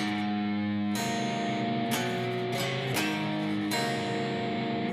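Electric guitar playing part 3 of a song slowly, several strummed chords at a steady pace, the strokes at roughly one-second intervals, close and moderately loud with no speech.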